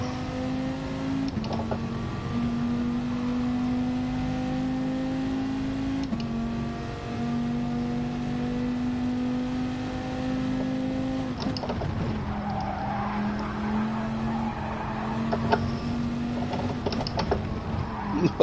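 Game car drifting on soft tyres in a racing video game: a steady engine drone holding one pitch, dipping briefly at gear shifts, with faint tyre noise and little talk.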